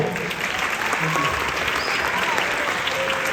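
Loud, sustained audience applause for Gustavo at a concert-style event with a mariachi, many hands clapping in a thick, even roar with a few voices mixed in.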